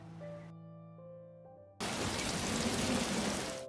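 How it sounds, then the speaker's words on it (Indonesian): Heavy rainstorm pounding down at night over a mountain village, a dense loud roar of rain that bursts in suddenly after a quieter tonal passage and holds steady to the end. "Malam harinya terjadi hujan badai di desa Sugumi."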